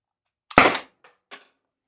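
A CO2-powered launcher fires a single sharp, loud shot up close, its burst trailing off quickly, followed by two faint, brief clicks or rattles.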